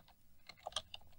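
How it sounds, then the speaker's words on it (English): Quick, quiet keystrokes on a computer keyboard as a password is entered, a short burst of a few light clicks heard close up with no talk. "So I'm just going to type in"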